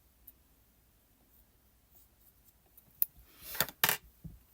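Scissors snip the yarn tails off a crocheted shell-stitch swatch: two or three short, sharp cuts cluster near the end after a quiet stretch, close and clear with no talking.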